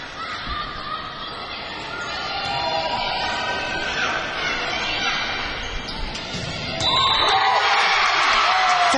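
A big crowd at a 2008 high school volleyball match between Hudson and Superior fills a gym with rising hubbub and cheering that swells loudly near the end, under an announcer's commentary.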